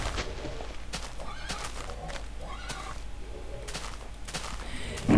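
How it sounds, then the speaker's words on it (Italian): A horse in the Minecraft Mo Creatures mod gives repeated whinnies and neighs over a steady game background, with faint hoof-like clatter between the calls. "Rumori strani che fa. Il cavallo."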